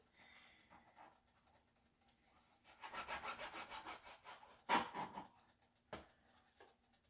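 A knife slices lengthwise through meat for hayashi rice, producing soft rubbing, sawing strokes in a rhythmic burst, then a sharper scrape and a few quieter cuts, close and without talk.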